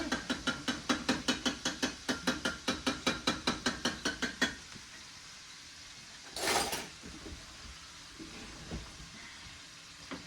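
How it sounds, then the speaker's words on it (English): A knife strikes a jar lid again and again in a kitchen, about twenty quick, evenly spaced sharp taps over four seconds, followed by a burst of running hot water and faint handling noises. "Hit it with the knife."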